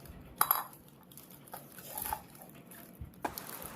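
Stainless steel gift vessels clink and clatter as they are packed, with a few sharp metallic knocks scattered among quiet rustling and handling.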